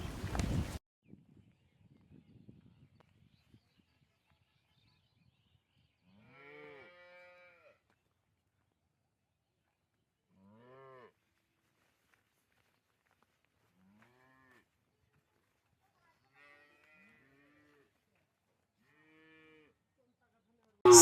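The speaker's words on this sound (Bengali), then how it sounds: "এটা একটা হলিস্টান ফিজিয়ান গরু" A Holstein Friesian dairy cow at a cattle sale moos several times, spaced apart as separate drawn-out calls of moderate loudness, with quiet gaps between and brief clatter at the start.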